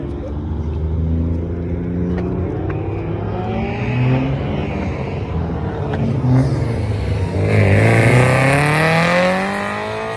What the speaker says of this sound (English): So Cadillac XT4 decides to park next to me. Oh, this guy is fucking skidding out and shit.